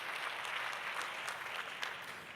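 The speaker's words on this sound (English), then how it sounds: "Round of applause, come on." An audience at an award ceremony applauds with steady, dense clapping that stays fairly quiet and distant throughout, with no voices over it.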